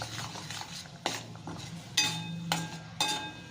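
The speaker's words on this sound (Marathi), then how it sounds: "आता आपल्याला फ्राय करून घ्यायचं गॅस मिडियम ठेवायचा आणि वाटणाला फ्राय करून घ्यायचा" Masala paste frying in a pan over medium heat for a village-style chana amti, with a faint sizzle under sharp metal clinks and scrapes of a spoon stirring against the pan, no talk.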